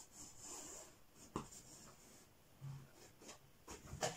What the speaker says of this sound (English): So give it a good rub like that, turn your cloth over, take it away again.